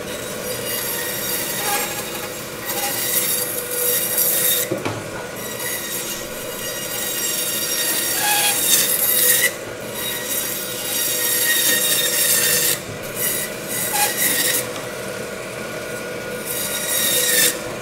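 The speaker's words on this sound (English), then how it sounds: "I still gotta trim this one a little bit on the bandsaw." A bandsaw trims a rock-hard dry-aged tomahawk steak, giving a steady, loud high-pitched metallic whine and rasp that runs the whole time, with brief surges and short breaks as the blade bites into the meat and bone.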